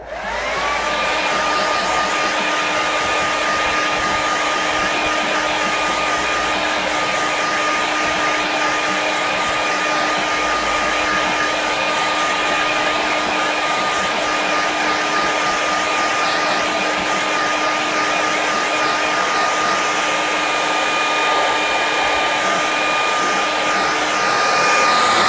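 A hair dryer runs steadily and loudly for the whole stretch, drying a watercolour seascape painting, with a constant whirring blow and a faint high whine and no talk.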